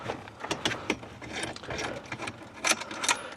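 A ratchet clicks in quick irregular bursts while loosening 10mm nuts under the steering column of a Dodge Ram, close and fairly quiet, with brief pauses between the runs of clicks.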